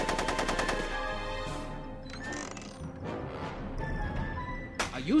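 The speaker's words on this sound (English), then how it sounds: "Are you shooting at me?" Gunfire in the Back to the Future video game comes as a rapid run of close, sharp shots at the start, followed by quieter mechanical game noises and a final sharp crack.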